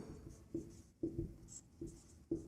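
A pen writes a maths solution on paper during a Class 10 arithmetic progression lesson, producing soft scratchy strokes in short bursts with small taps between, close and quiet with no talk.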